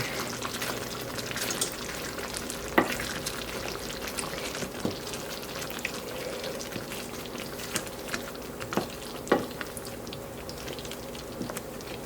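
Butter being stirred into a creamy chicken sauce in a pan off the heat, a soft steady bubbling hiss with occasional light clicks of a spoon against the pan.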